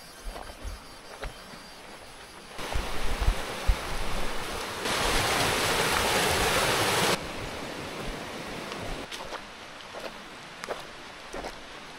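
Water pours steadily down a waterfall at a hidden trail spot in Nueva Ecija, Philippines, a broad rushing roar that swells loud in the middle and eases back, with no talking.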